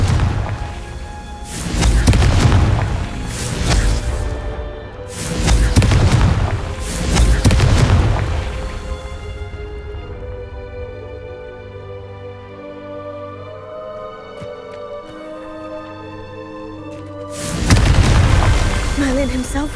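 Confringo fire spell explosions in the video game Hogwarts Legacy: a run of heavy, loud booms in quick succession, then a sustained tonal musical stretch, then one more forceful blast at the end, with voices around them.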